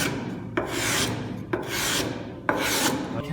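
A wooden spatula is rubbed on sandpaper glued to a chipboard board in three steady rasping strokes with brief pauses between them, close and alone.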